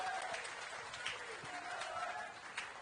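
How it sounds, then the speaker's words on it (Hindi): A crowd at a Hindi-language political gathering applauds in a steady, broad wash of clapping, with a voice faintly present underneath. "जोरदार तालियां बजनी चाहिए।"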